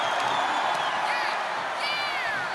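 Arena crowd in the WWE 2K25 wrestling video game during a Roman Reigns versus Brock Lesnar match, a steady roar of cheering with shrill whistles rising above it for a couple of seconds.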